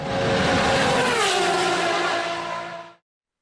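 A Noble M600 supercar lapping a race track, its engine a loud, sustained roar with shifting pitch and faint tyre squeal, continuous until it cuts off abruptly.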